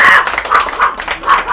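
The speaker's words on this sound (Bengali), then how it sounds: "তার এক জোরে হাততালি দিয়ে আমরা এখানে" Bursts of clapping at a Reno 14 series sales success celebration, rising and falling in short waves, close and fairly loud.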